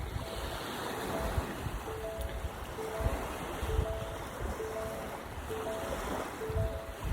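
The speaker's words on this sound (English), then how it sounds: "Yeah, it's all white caps out there" Wind-driven whitecap waves wash steadily across Tomales Bay in the rain, a continuous broad hiss of surf and gusting wind close to the microphone, with no talking.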